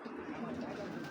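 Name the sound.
racer pigeons cooing at a farm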